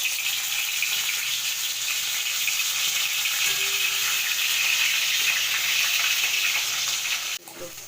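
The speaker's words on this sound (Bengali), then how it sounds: "আমি চিকেনগুলো আস্তে আস্তে, লেগ পিসগুলো আস্তে আস্তে ভেজে নেবো।" Chicken leg pieces sizzling in hot ghee in a pan, a loud steady frying hiss throughout with occasional stirring, cut off abruptly near the end.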